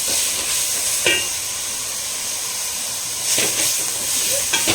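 Coriander stems sautéing in a pan for a village-style Tamil green masala, a steady soft hiss and sizzle with a few brief stirring scrapes, heard alone at close range.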